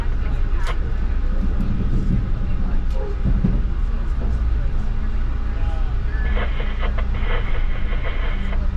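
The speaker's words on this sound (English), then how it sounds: "There's a path train jumping over us here." A PATH train passes overhead on an elevated crossing near Newark while a car rolls on track 2, giving a steady rumble and rail rattle with faint squeals and a high tone late on, under a continuous wash of noise.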